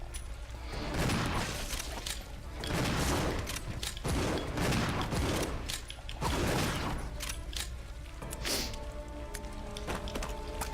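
Pistol shots in the video game Resident Evil 0: several loud, sharp reports fire in an irregular series with echoing crashes and mechanical clatter in between.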